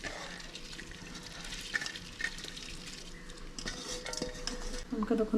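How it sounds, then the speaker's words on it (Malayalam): Soaked rice is stirred into chicken in a pressure cooker, giving soft metallic scrapes and clinks of a spoon against the pot over a faint low sizzle, close and quiet. "ഇപ്പം മുകളിൽ റൈസ് എല്ലാം കൂടി മിക്സ് ചെയ്തെടുത്തിട്ടുണ്ട്"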